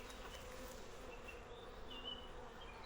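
Honeybees in an open hive that is raising new queens, a dense, continuous buzz of many wings heard close and steady throughout, with no talking.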